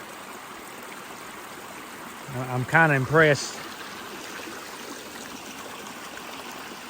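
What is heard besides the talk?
rainwater running down from the hill after a storm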